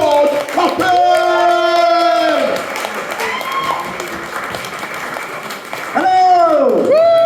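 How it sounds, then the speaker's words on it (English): Comedy club audience at Millowners Sheffield clapping, whooping and yelling to welcome comedian George Coppen, a loud, sustained wash of applause with shouted cheers over it. "round of applause, can we start with you? And work our way around for Mr. George Coppen"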